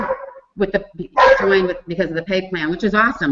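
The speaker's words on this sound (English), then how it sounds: "I'm sorry about the dog." A dog barks in the background of an indoor conversation, with several short yips mixed in among the voices. The barks stay partly masked by steady talking throughout.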